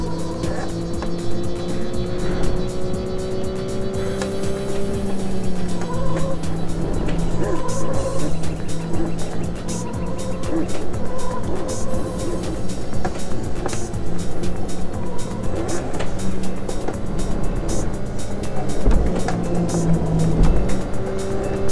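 Porsche engine in Need for Speed Porsche revving and pulling steadily upward in pitch as it accelerates, a loud continuous drone with rising harmonics and light tire and road noise throughout, no talk.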